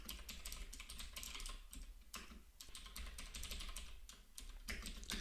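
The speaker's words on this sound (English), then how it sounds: "We type in for" Code is typed on a computer keyboard in quick, uneven bursts of clicking keystrokes, close and fairly quiet, with brief pauses between runs and no voice.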